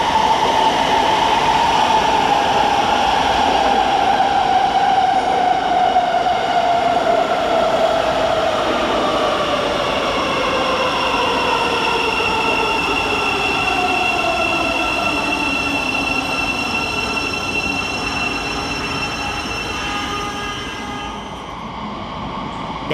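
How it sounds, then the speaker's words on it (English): A Thameslink Class 700 electric train pulls into London St Pancras station, its loud, steady rail rumble and a descending whine of slowing motors filling the platform, with faint wheel squeal as it comes to a stop. "Next into the station is 700 120, working the slightly delayed 10:35 to be a Thameslink service from Bedford to Three"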